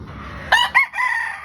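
A young rooster (stag) crowing once, close and loud, in a short broken call that rises, dips and holds a final drawn-out note.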